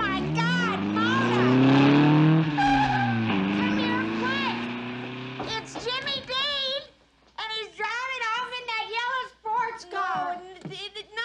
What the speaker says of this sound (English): How on earth did he even get that car started, Juanita?